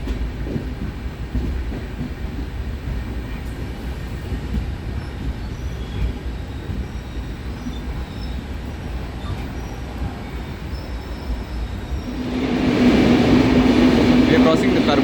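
The Kochuveli Mumbai Express, train 22114, rumbling through the 6.5-kilometre Karpute tunnel on the Konkan Railway after leaving Ratnagiri: a loud, enclosed roar of wheels and carriages that swells louder and brighter near the end.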